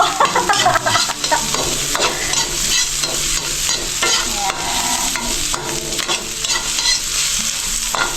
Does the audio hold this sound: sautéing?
yes